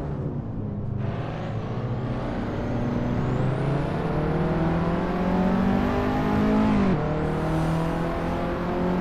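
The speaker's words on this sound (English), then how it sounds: "I have to double downshift here." A race car engine in Assetto Corsa revs loudly and steadily, its pitch climbing and then dropping sharply as the driver double downshifts, with a continuous harmonic drone and no voices.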